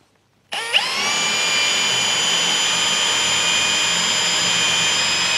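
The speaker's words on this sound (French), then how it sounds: "je me mets sur la position plutôt perçage pour pouvoir percer tranquillement" An Einhell Professional TP CD 18/120 Li BL cordless drill-driver, set to drilling mode, bores a 10 mm hole in MDF: a sharp spin-up into a steady, loud high-pitched motor whine that holds evenly to the end, with no talking.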